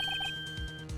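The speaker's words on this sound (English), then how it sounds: "I heard a phone ring just now." Phone ringtone from Phoenix Wright: Ace Attorney, a short repeating electronic two-tone trill, faint, followed by soft low thumps.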